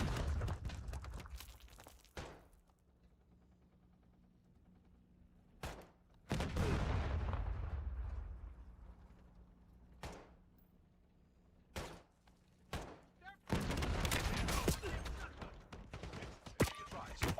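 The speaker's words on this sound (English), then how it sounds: "Goddamn shotgun." Shotgun blasts in a video game ring out as separate loud cracks at uneven intervals, scattered between quieter stretches, with a voice talking now and then.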